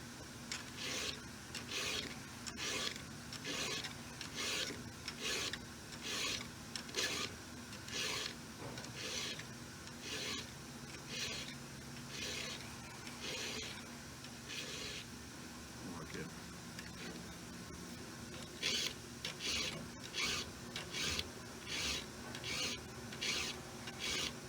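A hand file rasps across chainsaw chain teeth in quick, even strokes. The sharpening comes in rhythmic bursts with a short pause partway through, and someone talks quietly underneath.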